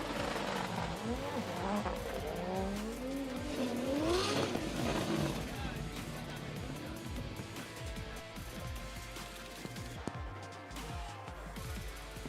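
Drift cars race on a wet track at a D1GP Malaysia event, engines revving and rising and falling in pitch as they pass, with tyre noise, over steady crowd and commentary talk throughout.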